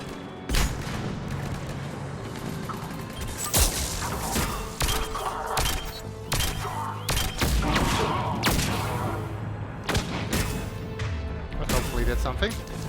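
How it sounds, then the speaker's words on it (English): Grenade blast and gunfire in the shooter Mass Effect 3 at a Cerberus fighter base: repeated heavy booms and sharp cracks, with a loud detonation among steady volleys, while someone talks over the combat. "Grenade!"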